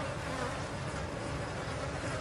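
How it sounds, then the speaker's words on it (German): Insects such as wasps and flies buzz steadily in a meadow, a dense continuous drone that fills the whole stretch without pause and with no voices over it. "auf so einer beschissenen Wiese ist natürlich, da sind natürlich überall Wespen"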